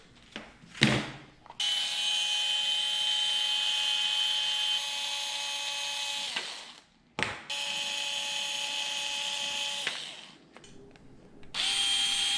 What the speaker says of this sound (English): time for one of my favorite tools,